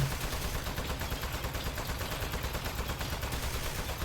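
Turret gunfire in the video game Aperture Desk Job, a dense, continuous rapid rattle of shots that fills the whole stretch at steady loudness, with no talking.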